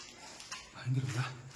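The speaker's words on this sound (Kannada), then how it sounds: "ನಾಯಿ ಬೇರೆ ಅಳ್ತಾ ಇದೆ ಫ್ರೆಂಡ್ಸ್." A dog whimpers briefly, a short high whine rising near the end, with faint voices in the background.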